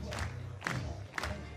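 A crowd cheers at the recurve men's gold medal archery match of the 2019 World Cup in Berlin, with three loud swelling bursts of shouting and applause.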